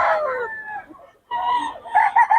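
A bull stag rooster at a bird market crows loudly and nearby in two drawn-out calls separated by a short pause, with no talk over it.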